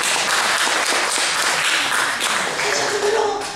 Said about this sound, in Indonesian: Tepuk tangan buat Tuhan Yesus, saudara.